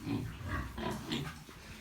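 Piglets with diarrhea grunt and squeal in short overlapping bursts, close by in a barn, with no people talking.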